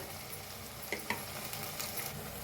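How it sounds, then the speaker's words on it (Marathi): Egg bhurji mixture with tomato being stirred and roasted in a pan, a continuous soft sizzle with a couple of sharp spatula scrapes and clicks, no talking. "मिक्स करून भाजून घेऊया"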